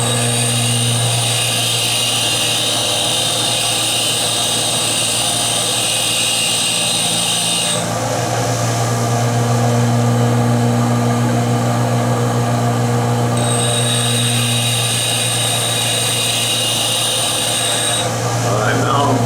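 A part being ground in a machine shop, a steady loud high whine from the grinder that cuts out midway and returns, with a constant motor hum underneath and a voice speaking over it.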